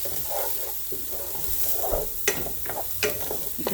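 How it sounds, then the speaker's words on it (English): Garlic sautés in a pan with a soft, steady sizzle, broken by several sharp scrapes and clinks as a utensil stirs it. The sounds are close and fairly quiet, with no talking. "Now I'm gonna add my garlic to this. And you want to make sure you keep stirring because you don't want your garlic to burn."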